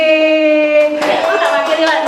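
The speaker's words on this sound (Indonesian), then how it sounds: "Oke, tepuk tangan." Applause from an audience at a school event in Indonesia, a dense patter of many hands swelling in after a steady tone and continuing for about a second.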